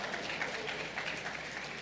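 An audience at a talk breaks into scattered, steady applause, a dense patter of many hands clapping at moderate volume with no single voice standing out.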